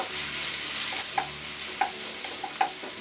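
Green and dried chilies fry in a pan with a steady hiss, broken by a few sharp stirring scrapes spaced about a second apart. No voices are present.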